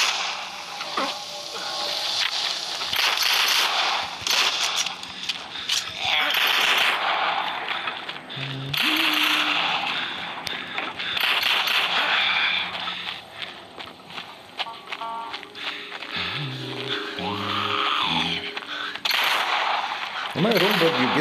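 Gunfire in the zombie shooter game Into The Dead 2, with repeated shots and clattering bursts running throughout over steady game noise and someone talking intermittently.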